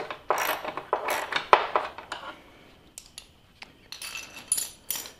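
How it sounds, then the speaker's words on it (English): A 13 mm wrench and socket loosen a tensioner pulley bolt during a Timemaster sync belt replacement, producing close ratcheting clicks and metallic clinks in irregular bursts separated by brief pauses. "I'm going to use a 13 millimeter wrench and a 13 millimeter socket here"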